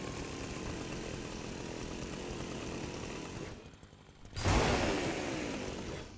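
A chainsaw runs in Fortnite, a steady buzzing drone that dips briefly and then roars back louder and harsher near the end.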